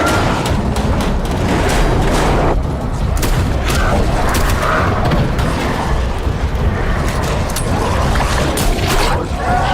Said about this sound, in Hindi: गोली चलाओ।